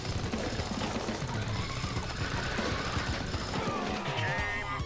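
Rapid explosions and gunfire pile up in the retro-style shooter Xeno Crisis on Sega Genesis, a loud, dense barrage of crashing blasts and chiptune noise with no letup.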